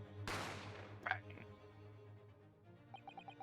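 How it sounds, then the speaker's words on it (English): A single sharp gunshot effect from The Great Ace Attorney Chronicles cracks out loudly near the start, its broad burst decaying over the next half second above a steady low game-music hum, followed by softer chimes. "You heard the gunshot, you mean?"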